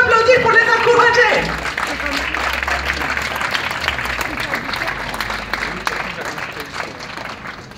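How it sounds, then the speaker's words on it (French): A crowd applauds musicians at a protest-concert in Brest, with steady, moderately dense clapping. A brief musical tone fades out at the start, and scattered voices and murmurs run underneath. "on peut les applaudir pour les encourager"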